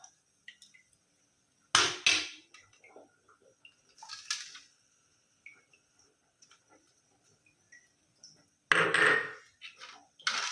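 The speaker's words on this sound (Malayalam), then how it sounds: "ഞാനിപ്പോൾ ഒരു സ്റ്റീലിൻ്റെ ഒരു പ്ലേറ്റ് എടുത്തിട്ടുണ്ട്" A steel plate is picked up and set down, giving a few sharp metallic clanks in separate bursts with quiet gaps between them, close by and fairly loud, and no talking.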